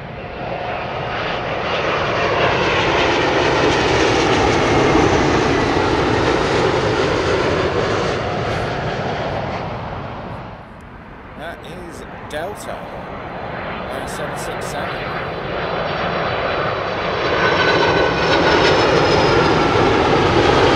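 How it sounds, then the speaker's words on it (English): A British Airways Boeing 777-200 passes low over houses near Heathrow, a loud roaring engine drone that swells, dips briefly, then builds again as the jet moves overhead, with a faint voice underneath. "British Airways, Boeing 777-200, and that is coming in from Chicago."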